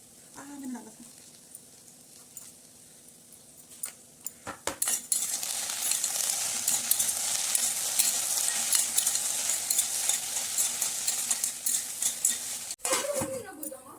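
Okra frying with spices in a pan, a soft hiss at first that turns into a steady, loud sizzle with scattered clinks of a utensil against the pan, and a voice briefly heard at the start and end.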